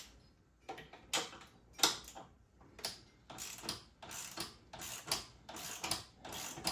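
A ratchet wrench with a 17 mm socket tightens crash cage bolts on a ZX6R motorcycle, a series of close, quiet clicking bursts in an irregular rhythm.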